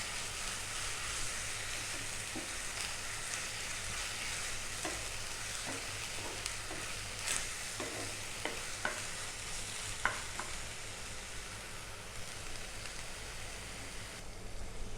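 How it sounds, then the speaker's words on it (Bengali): Beef tripe frying in a pan while being stirred, a steady dense sizzle running throughout with scattered scraping ticks of a spatula, close and continuous. "আমি কিছুক্ষণ এটাকে ভেজে নেব"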